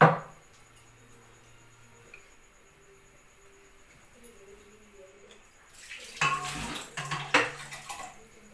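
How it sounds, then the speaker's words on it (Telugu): Cooked gongura leaves mashed in a pot with a wooden dal masher for Andhra-style mutton curry in a village kitchen: quiet at first, then close, wet squelching and knocking strokes in an irregular rhythm over the last few seconds. "పప్పు గుత్తితో బాగా మెత్తగా మెత్తగా గోంగూర."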